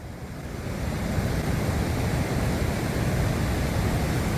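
The Hinku River rushes near a bridge on the Lukla to Mera Peak trek, a loud, dense, continuous roar of whitewater that swells in over the first second and then holds steady, with no talk.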